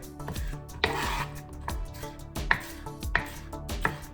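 A long, wide knife slicing spring onion on the diagonal through both white and green parts, producing a series of irregular chopping knocks against a cutting board, close and moderately loud, with no talking.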